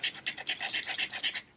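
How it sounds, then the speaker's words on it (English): A sanding disc rubs along the glued edge of a paper craft piece, giving a rapid series of dry, raspy scratching strokes in a steady back-and-forth rhythm, close and fairly quiet with no talking. "sanding disc,"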